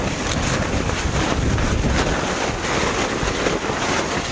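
Strong wind gusting at a rainy night campsite, a steady loud roar buffeting the microphone throughout with no pauses and no one talking.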